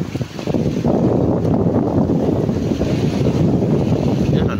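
A service boat out on the open sea in choppy waves, a loud continuous rumble of engine, water and wind buffeting the microphone, steady and close throughout.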